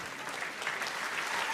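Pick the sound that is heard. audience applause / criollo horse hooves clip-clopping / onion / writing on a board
audience applause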